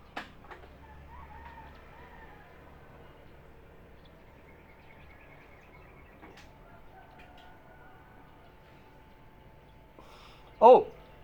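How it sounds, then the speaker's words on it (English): A quiet outdoor scene with low background murmur, then a single rooster crow rings out clearly near the end, fairly close and loud against the stillness. "Oh, I can see a rooster. There's a cock there."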